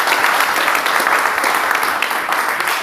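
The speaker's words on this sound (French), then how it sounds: "Applaudissons pour le Seigneur." A church congregation breaks into loud, sustained applause for the Lord, close and steady from start to finish with no voices above it.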